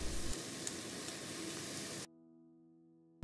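Chinese okra, wood ear fungus and pork belly are stir-fried in a pan, giving a steady close sizzle for about two seconds before a sudden cut to near silence and a brief return at the end.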